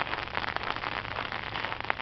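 Hail falls during a winter storm in Georgia, a dense, steady patter and crackle of small ice pellets striking the ground and surfaces all around, with no voices.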